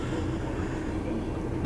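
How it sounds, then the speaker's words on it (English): A train rumbles past on Queen's Avenue in busy Melbourne traffic, a dense, continuous low roar filling the short stretch at steady loudness. "There's a train gone down right there, down Queen's Avenue."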